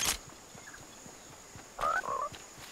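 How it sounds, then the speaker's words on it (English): A frog croaks in the Fortnite video game, a short pair of faint, bubbly croaks near the end over quiet ambient background, preceded by a brief sharp click at the start. "Where's this frog at?"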